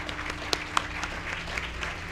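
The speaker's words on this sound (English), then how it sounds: "A round of applause for our panelists and respondents." An audience at a waterfront design conference applauds its panelists and respondents, a steady patter of many hands clapping with a few sharper claps standing out, moderately loud and continuous throughout.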